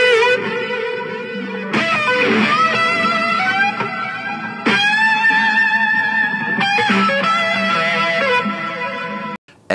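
Isolated studio electric guitar solo, with singing sustained lead notes, bends and distinct phrases separated by brief attacks, loud and upfront with no voices.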